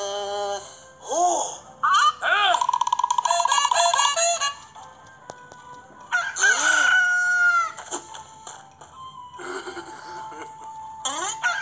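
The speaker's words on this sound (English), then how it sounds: "Then he heard the rooster crow." A rooster crows repeatedly, loud and close, each long warbling call rising and falling, with short clucks and pauses between the crows.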